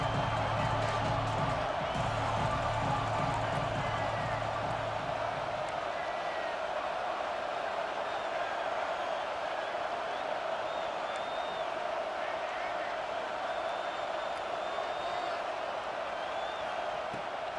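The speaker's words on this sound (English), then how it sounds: "Here comes this home crowd as the defense tries to get off the field on third down." Home crowd in EA Sports College Football 26 roars steadily as the defense tries to get off the field on third down, a dense continuous wash of cheering that stays loud throughout, with a voice briefly audible early on.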